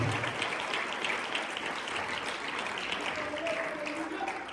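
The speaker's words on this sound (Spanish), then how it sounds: "de esas palmas al Rey de Reyes y Señor de Señores" A church congregation claps and applauds during a worship service, a dense, steady wash of many hands that holds at an even level for a few seconds without a break.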